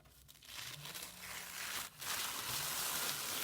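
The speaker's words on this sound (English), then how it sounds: "you want to peel it away so that you get rid of 2 of the layers" Layers of a tag being peeled apart by hand, a steady close crinkling and crackling rustle that runs continuously, with a brief dip partway through before the peeling noise resumes.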